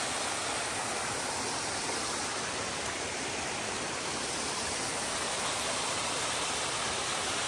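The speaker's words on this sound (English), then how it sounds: "we got a little creek crossing, a little bonus waterfall here" A small waterfall at a creek crossing on Avery Creek near Brevard, North Carolina, swollen by recent rain, makes a steady, close, unbroken rushing wash. No voices are heard.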